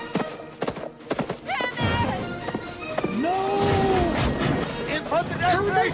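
A horse gallops in a Back to the Future Part III scene, with rapid clip-clop hoofbeats and loud neighs and whinnies over a busy film soundtrack while viewers talk and react.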